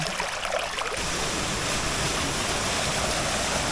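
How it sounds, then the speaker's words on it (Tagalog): Mahogany Falls, a waterfall and stream in Trece Martires, Cavite, sends out a steady, loud, broadband roar of rushing water with no voices. "So ito na yung sinasabi nila na Mahogany Falls."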